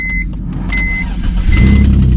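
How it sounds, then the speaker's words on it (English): A car engine cranks and fires up after sitting unused for a while, a short whirring start settling into a louder, steady idle near the microphone. "Let's fire this one up."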